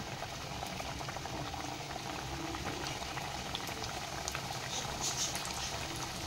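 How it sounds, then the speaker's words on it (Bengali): Khaja, a flour-dough sweet, frying in very hot oil over medium-low gas, giving a steady, dense bubbling hiss that carries evenly throughout, close and fairly loud, with no talking. "তেলটা আমার খুব গরম হয়ে গেছে, রেখে আমি এগুলোকে ভেজে নেব"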